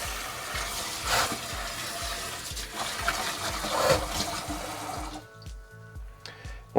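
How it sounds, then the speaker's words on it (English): Long grain white rice is swished and agitated by fingertips in a bowl of water, giving a steady watery churning that thins out toward the end. "What you want to do is agitate this a little bit with your fingertips"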